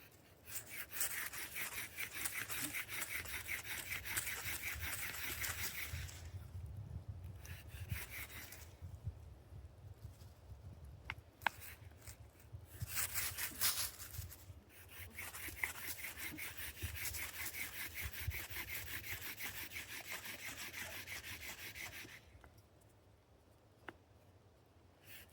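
A willow bow drill spindle grinds back and forth in long, steady rubbing strokes for a survival fire ember, with brief pauses between runs, close and fairly quiet.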